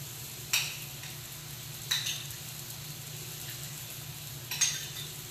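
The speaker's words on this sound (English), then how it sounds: "pop it in the pan, and just saute it till it's cooked through" Food sautéing in a pan gives a steady, low sizzle throughout, with three brief sharp clinks or stirs standing out. The cook is working on broccoli and cauliflower, and there is no talk.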